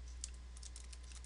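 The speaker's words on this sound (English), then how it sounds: "please excuse me while I type this code" Quick, faint clicking of code being typed on a computer keyboard, a steady patter of light keystrokes over a low background hum.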